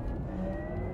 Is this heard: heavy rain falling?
no